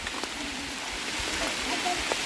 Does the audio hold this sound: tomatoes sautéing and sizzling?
no